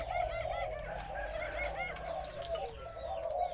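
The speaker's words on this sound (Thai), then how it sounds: "เสียงสามกุก เสียงใหญ่ ตัวนี้สุดยอดมาก" A spotted dove, a big-voiced bird, coos in its three-note call, a deep soft mellow cooing heard at moderate distance under steady background noise and other faint birdsong.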